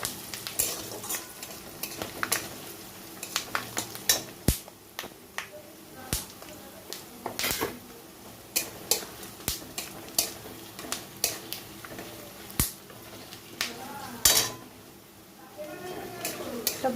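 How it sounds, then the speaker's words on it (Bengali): Dried chillies, green chillies, peppercorns, cashews, melon seeds and bay leaves fry together in hot oil for chicken rezala, with a steady sizzle under frequent sharp clicks and scrapes of a stirring spoon against the pan. "এখানে দিয়ে দিচ্ছি কাজু, চালমগজ, তেজপাতা। সবগুলো একসঙ্গে ভেজে নেব।"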